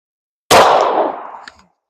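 A single loud, close handgun shot fired at a target during a 3-2-1 accuracy drill cracks sharply and rings out in a trailing decay of about a second.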